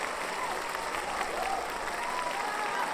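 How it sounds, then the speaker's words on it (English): Cheering and applause sound effect played on an NFL talk show, a dense burst of crowd clapping and whooping that holds steady for several seconds. "We'll give a little cheer for that."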